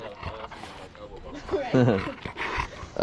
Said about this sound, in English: And this is his beautiful dog, Tori, who's been beating up Kicker.